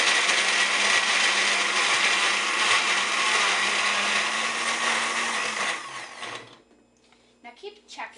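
A blender whirring loudly and steadily through a fruit smoothie for about six seconds, then winding down and stopping, followed by quieter clinks and handling sounds.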